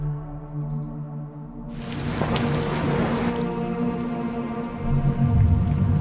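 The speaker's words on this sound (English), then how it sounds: "Thunder and lightning rainstorm." Steady heavy rain pours onto a surface as a thunder-and-lightning rainstorm sound effect, with a low rumble of thunder swelling near the end; no voices.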